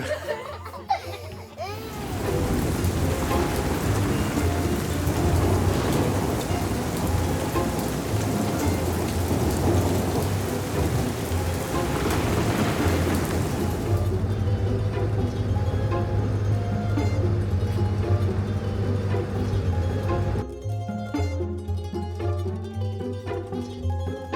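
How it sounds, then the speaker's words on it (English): Heavy rain pours down in a thunderstorm in Mu Cang Chai, a dense, steady roar of rain on surfaces with low thunder rumbling underneath for over twenty seconds. "Some light rain turned into heavy storms."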